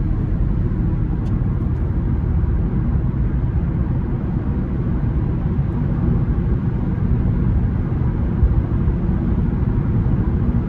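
A 2007 Honda Civic LX driving down the road, heard from inside as a steady low engine and road rumble with constant tire noise, no voices.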